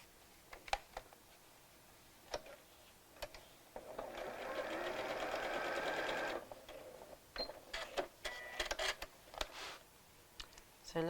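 Sewing machine stitching the hem of a small doll dress, one steady whirring run of about two and a half seconds, framed by scattered clicks and handling taps of fabric and tools, quiet and close.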